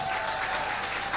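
Steady applause from a crowd rings out in a recorded playback, continuous dense clapping at even loudness throughout the brief moment.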